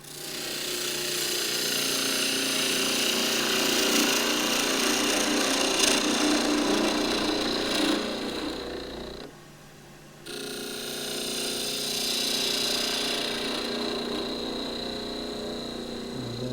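Wood spinning on a lathe while a gouge cuts with its point, a steady hissing, scraping drone that runs almost continuously, pauses briefly near the end, then resumes, with no voices.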